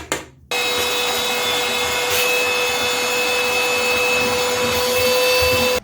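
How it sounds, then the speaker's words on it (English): Vacuum cleaner sucking up debris during a bathtub drain repair, switching on abruptly and holding a steady high-pitched whine with rough scraping and rattling as material is drawn in, close and loud, no talk. "You can always use a vacuum to clean it all up."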